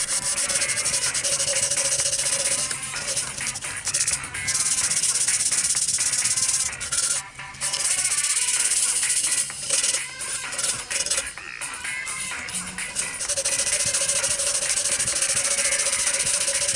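Continuous loud rasping and scraping as wood debris is cleaned out of holes drilled in a wooden sword handle, a steady abrasive rubbing with brief pauses.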